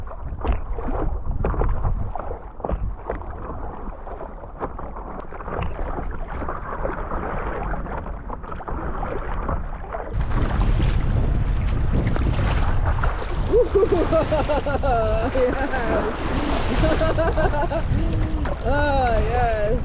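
Paddling on open water: steady wind rush and water wash fill the scene, growing louder and fuller partway through, with people talking over the continuous outdoor noise.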